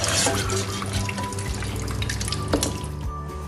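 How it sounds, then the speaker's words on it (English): Soaked rice is rinsed under a steadily running tap, giving continuous close splashing and trickling water with small drips throughout and no talking. "So we'll just run this through some more water and then we'll take it to the fire."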